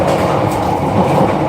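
A passenger train rolls along the rails on a five-hour journey in Vietnam, giving a steady, close rumble with a faint clickety-clack and no voices.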